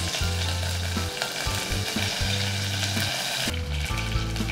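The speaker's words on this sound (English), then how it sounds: "So we take little oil, splutter mustard, add a sprig of curry leaves," Mustard seeds and curry leaves spluttering in hot oil for Mangalorean prawns puli munchi, a continuous close crackling sizzle with a low steady hum underneath.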